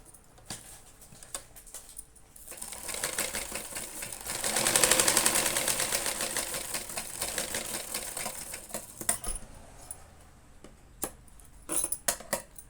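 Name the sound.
sewing machine stitching down the middle of fabric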